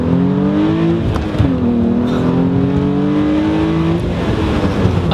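Hyundai Genesis Coupe engine bucking as the throttle is eased off, a loud continuous engine drone whose pitch dips and surges unevenly over several seconds, heard close from inside the car with no talk.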